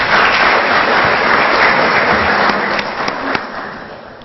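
Loud, dense audience applause for an ambassador at an official gathering, steady and sustained, then thinning slightly toward the end.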